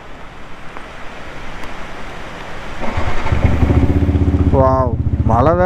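A modified Yamaha R15 V3 motorcycle fires up and idles with a loud, throaty burble, then revs in rising and falling bursts, heard up close under heavy rain hiss.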